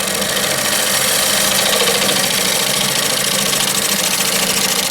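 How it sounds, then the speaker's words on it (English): A scraper works an epoxy bowl spinning on a woodturning lathe, giving a steady, dense whirring and rasping drone at an even level throughout, with no speech. "I'm just using my scraper right now"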